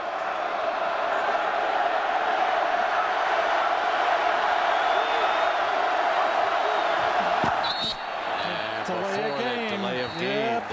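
Dense, continuous roar of a packed college football stadium crowd at Pittsburgh versus Nebraska, steady and loud throughout, with a commentator's voice coming in near the end.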